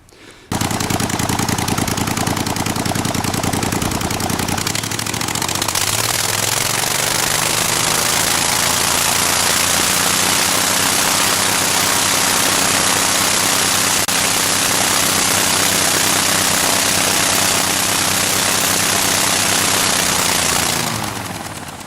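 A Generac generator engine runs with its exhaust pipes removed, giving a loud, steady, raw roar that lasts about twenty seconds before it cuts off. No talking.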